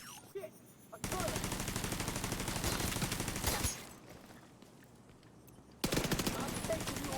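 Rapid automatic gunfire against an enemy turret in The Division 2, with long sustained bursts of sharp repeated shots that stop and restart, loud and close in the game mix.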